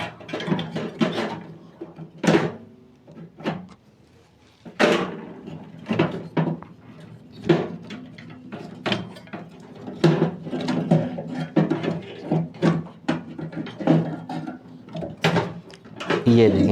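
Clicks, scrapes and clunks as a component is pulled out of an opened microwave oven during a repair, scattered rattles and knocks coming under a man's ongoing explanation.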